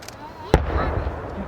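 Fireworks at the 2022 Narita fireworks festival at Inba-numa pop in the distance, one sharp burst standing out over a murmur of background voices and crowd ambience.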